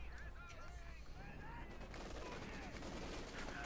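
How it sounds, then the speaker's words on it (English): Heavy machine gun fire in the Company of Heroes 2 strategy game, a faint continuous rattle of rapid shots with distant battle noise, running under someone talking. "Heavy machine gun fire there, slowly exterminating the Maximum crew and Panther the conscripts."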